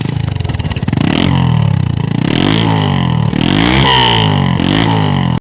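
A Bajaj Discover 135 motorcycle with its original engine runs close by, its exhaust rising and falling in several rev swells over a steady idle chug before cutting off abruptly at the end.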